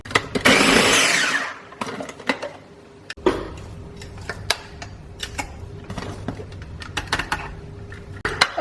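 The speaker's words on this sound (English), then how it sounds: "I'm going to add a little bit of fish sauce to this and blend it up." Green curry paste with fish sauce whirs in a blender, one loud burst at the start followed by quieter stop-start pulses, clicks and rattles of the jar, heard up close with no voices.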